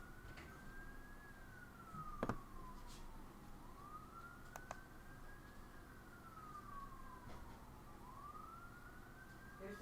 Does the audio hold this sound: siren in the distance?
yes